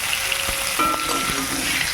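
Fresh new potatoes fry in a pan in a village kitchen as they brown. A close, steady sizzle runs throughout, broken by occasional clacks of stirring, with no speech.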